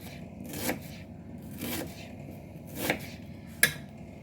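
A knife cutting an onion into half-rings on a board, four separate soft slicing strokes with brief scrapes, close and fairly quiet.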